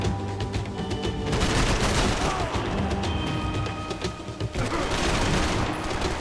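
Rifle fire in the video game Max Payne 3 comes in rapid bursts of loud sharp shots, with a brief lull midway before more firing resumes.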